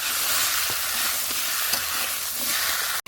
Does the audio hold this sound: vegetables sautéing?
yes